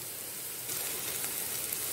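Cumin seeds sizzle in hot oil while a Tamil beans-carrot and moong dal poriyal is tempered, giving a steady close crackling hiss that swells a little louder partway through, with no talk.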